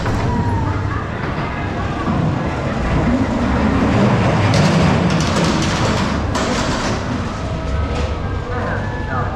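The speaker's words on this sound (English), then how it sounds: "the classic ghost train" Ghost train ride cars rumble along the track at Blackpool Pleasure Beach, producing a steady, loud mechanical roar with rattling and clattering bursts throughout, mixed with amusement park background noise.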